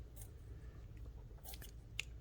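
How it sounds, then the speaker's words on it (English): Good scissors snip in a few short, crisp bursts while fussy cutting close around paper flowers, quiet and near, with soft rustling between cuts. "I'm going to cut fairly close around the flowers"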